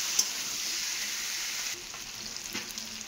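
Paneer frying with spices in a pan gives a steady, close sizzle that holds even throughout, with a small tap near the start and a faint scrape later on; no one speaks.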